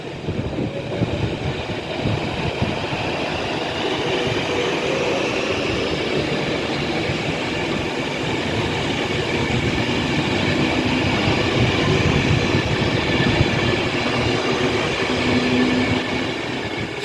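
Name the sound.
train departing Rugby station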